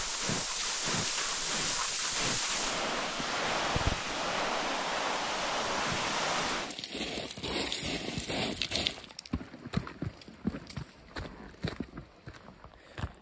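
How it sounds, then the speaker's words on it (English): Strong mountain wind roars and buffets loudly, then gives way to gusty rumbling mixed with crunching steps and clattering knocks. "it's getting pretty windy"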